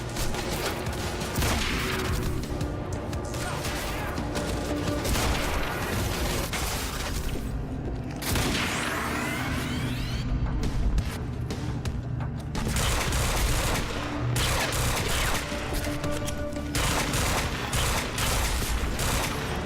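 Dense, sustained gunfire from the video game Quantum Break, rapid automatic bursts layered with booms and impacts that run almost continuously at high volume, with brief lulls.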